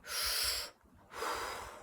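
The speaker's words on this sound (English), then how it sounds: "Now I'm breathing through my mouth, because I really want to focus the air down into my hips" Loud, close breaths through the mouth, a long airy rush, a brief pause, then a second long breath, taken while squatting with bent knees, with no talking.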